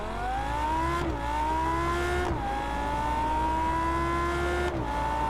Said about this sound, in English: does this weird rev hang thing at the top of gears